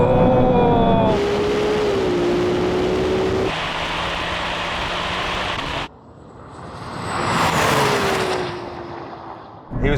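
A Porsche 911 Turbo S and a Ferrari 296 launch in a drag race, loud engine roar rising through the gears, dropping off abruptly mid-run, then swelling again as the cars pass close before fading.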